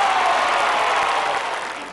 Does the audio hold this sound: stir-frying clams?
no